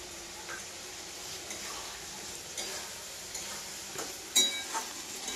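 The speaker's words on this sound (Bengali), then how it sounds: "এবারে আমি এটাকে ভালোভাবে ভাজবো। আজকে কিন্তু আমি চিকেনটাকে তেলে হালকা ভাজিয়েছি" Chicken fries in oil with turmeric and chili powder, giving a steady, close hiss of sizzling broken by a few louder stirring scrapes near the end.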